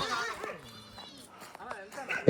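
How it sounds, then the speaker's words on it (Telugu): A close, wavering bleat of young goats, faint and brief, followed by a sharp loud noise at the very end. "మేక పిల్లలు."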